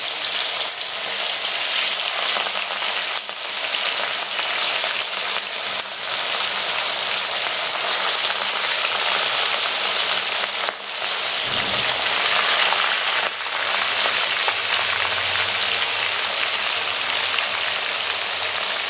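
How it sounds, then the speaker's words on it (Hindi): Fish frying in hot oil in an iron wok for a Maithil fish dish, a steady loud sizzle that runs throughout, with a few brief dips and a lower bubbling swell as pieces settle in, no voices. "तेल गरम भऽ गेलै हँ। एहिमे हम माछ एक एक कऽ कऽ खसा देबै।"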